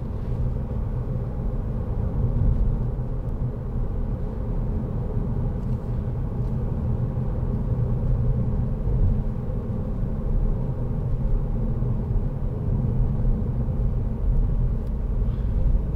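Steady low engine rumble and road noise inside a 2010 SEAT Leon 2.0 TD FR five-door diesel hatchback cruising along, constant and droning throughout with no talking.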